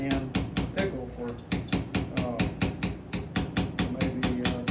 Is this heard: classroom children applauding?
no